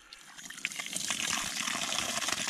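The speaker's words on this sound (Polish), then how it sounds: "Tu woda poleciała." Water gushing and splashing onto a terrace during a leak test, a steady broadband rush that builds and stays loud, with no talking over it.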